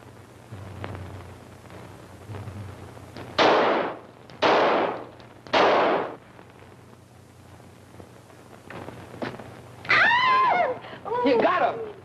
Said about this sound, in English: All right, Herbie, show him how we shoot